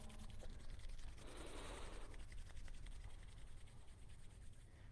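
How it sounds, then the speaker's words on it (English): Palms rubbing briskly together during a hot flow yoga class, a soft brushing swish that swells for about a second and then settles into a faint, steady room hiss. "bring your hands together, rub them, bring some energy back in"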